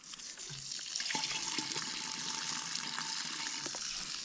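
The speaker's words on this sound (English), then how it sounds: "squirt the water in there, or pour the water in" Water poured into a pressure washer, a steady splashing and gurgling stream, fairly close and continuous, with no talk.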